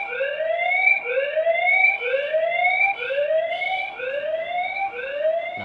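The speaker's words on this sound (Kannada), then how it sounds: "ಅನಿಸ್ತಾಯ್ತಾ ಸೈರನ್ ಸೌಂಡು" A security camera siren wails steadily in repeated rising sweeps, each about a second long, loud and near, continuing without pause or voices.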